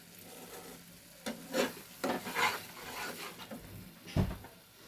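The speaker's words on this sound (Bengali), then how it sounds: "আবারও একটু টমেটোর জলটা আমি দিয়ে দিলাম, দিয়ে আরও কিছুক্ষণ কষবো" Egg curry made with duck eggs sautés in a pan with tomato water over low heat, giving a soft sizzle broken by irregular stirring scrapes and a firmer knock near the end.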